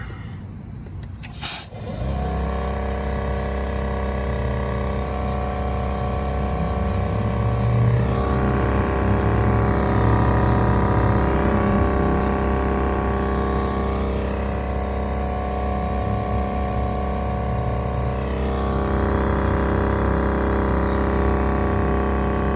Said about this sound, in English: See how she does inflating the tire.